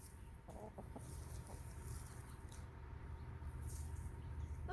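Rhode Island Red, Barred Rock and Isa Brown hens on a farm cluck softly in short, scattered bursts over a low, steady background noise.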